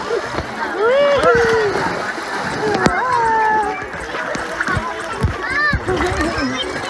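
Water splashes steadily as people bathe outdoors in a shallow stream, with excited children's and adults' voices calling and talking over the splashing throughout.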